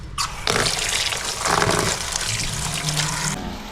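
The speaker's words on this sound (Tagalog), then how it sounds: "At pababad sa tubig." Water runs steadily into a kitchen sink or basin to soak mushrooms and other vegetables, a continuous close splashing rush lasting a few seconds, with no talking.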